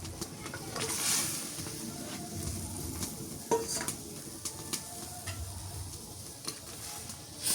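Rita fish hisses in hot oil in a pan over a firewood stove, a steady close sizzle broken by occasional clinks and scrapes of a utensil, with faint talk now and then.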